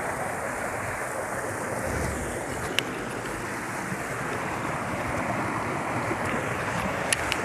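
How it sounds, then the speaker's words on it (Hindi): Steady, dense rush of falling water from a waterfall at Nandi filling the scene, continuous and loud with a few faint clicks, no voices. "ये जो आबशार गिर रही है उस आबशार के पास हूँ बिल्कुल"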